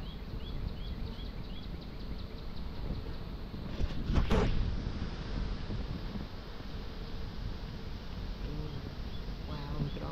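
Honeybees swarm around an open client's beehive during a transfer from a nuc, giving a continuous, dense buzz up close, with a brief louder rustle partway through.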